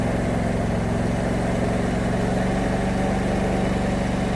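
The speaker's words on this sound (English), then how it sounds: "you want to set your throttle, and you're going to probably not hear me anymore, but I'm going to go ahead and raise it some." Craftsman T3100 riding mower engine running at raised throttle, a steady, loud, uniform drone with an even low-pitched hum and no breaks.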